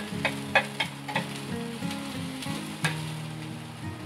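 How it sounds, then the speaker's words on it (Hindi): Finely chopped green chillies frying in oil in a pan, a loud close sizzle with soft stirring scrapes and crackles throughout. "उसको भी मैं हल्के से भून लूंगी"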